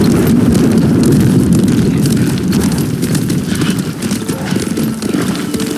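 A horse gallops at a steady, driving pace in Ghost of Tsushima, its hoofbeats loud, dense and continuous over a broad rushing wash of movement and wind throughout.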